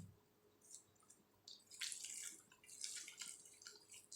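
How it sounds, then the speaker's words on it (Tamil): Water is poured into a pan while cooking banana wheat-flour kuzhi paniyaram, a faint splashing and trickling with uneven surges that sounds distant and soft, with no talk. "இப்போ வந்து தண்ணி ஊற்றிக்கலாம்."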